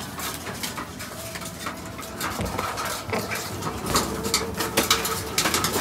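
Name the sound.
pigeon cooing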